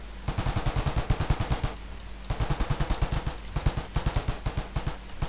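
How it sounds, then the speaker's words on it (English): Minigun from a Minecraft gun mod firing in rapid bursts of dense, evenly spaced shots. The bursts are loud and close, separated by short pauses, and no one talks. "Next up we have the minigun."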